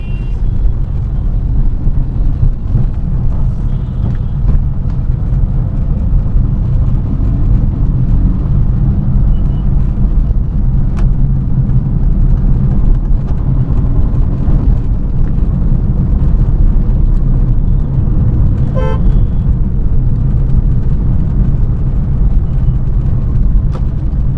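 Dense stream of cars and trucks pouring along Sinhagad Road after a signal turns, a loud continuous low rumble of engines with occasional horn-like tones, no pause throughout.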